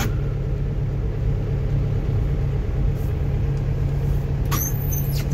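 A Honda Wave 125 motorcycle is ridden on knobby spiky tires, giving a continuous loud low rumble and road roar throughout, with a brief higher squeal near the end.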